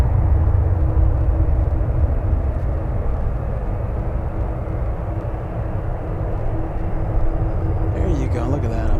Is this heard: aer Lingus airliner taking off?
yes